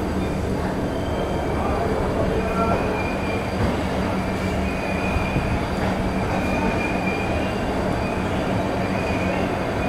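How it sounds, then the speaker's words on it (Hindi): Double-decker train 12584 pulling out of Delhi's Anand Vihar station, a steady rumble of rolling wagons with occasional wheel squeal and clatter throughout, fairly loud and close. "ट्रेन जो है बिल्कुल 2:05 पर शार्प डिपार्ट हो चुकी है प्लेटफॉर्म नंबर 6 से आनंद विहार"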